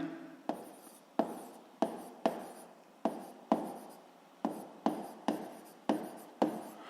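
Pen strokes on paper as a physics law is written out by hand, a close series of about a dozen scratchy strokes in an irregular rhythm, alone.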